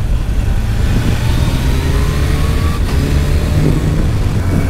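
A Kawasaki H2 motorcycle at full throttle, its engine a loud, steady roar heard close up and mixed with heavy wind rush, with a faint rising whine through the run.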